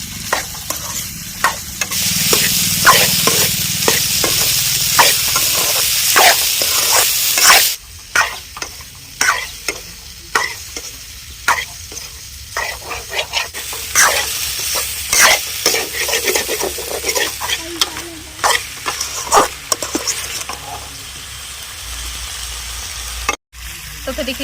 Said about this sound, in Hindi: इसी तरह चला के हम अच्छे से फ्राई कर लेते हैं 2 मिनट तक